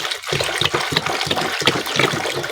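Water sloshes and gushes close by in choppy, continuous splashes, like something being rinsed and swirled, with no voices.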